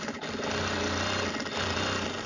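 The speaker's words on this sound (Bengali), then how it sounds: "এখন আপনি এখানে একটা সেলাই দিবেন" A sewing machine stitching a sleeve runs in a steady fast whirring hum, close and even throughout with one brief pause.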